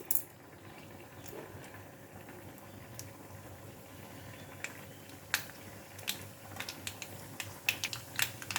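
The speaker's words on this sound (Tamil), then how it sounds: "கடுகு போட்டுக்கலாம் கடுகு நல்லா பொரியட்டும்" Mustard seeds splutter in hot oil as a cooking tempering, giving sparse, faint crackles and pops over a quiet sizzle that grow quicker and sharper toward the end.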